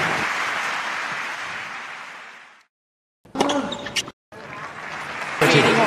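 Tennis crowd at Roland Garros applauding, a loud broadband wash of clapping that fades out, then returns after a gap in short bursts, with commentators' voices mixed in.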